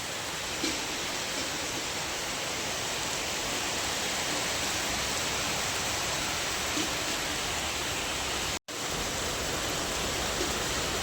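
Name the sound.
rain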